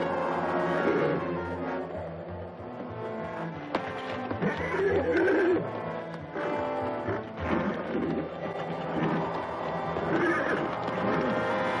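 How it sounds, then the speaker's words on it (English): Several horses neigh and whinny over roughly twelve seconds, the calls rising and falling at a moderate distance amid shuffling and background sound, with no talk. "Horses."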